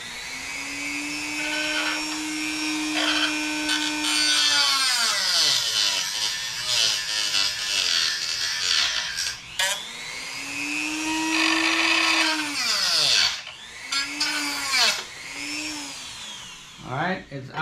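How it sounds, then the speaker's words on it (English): A power tool cuts off the rest of a metal rod during a JetScout build, whining in long sustained passes that rise and fall as it bites, close and loud, with someone talking over it. "now we're just gonna cut off the rest of the rod"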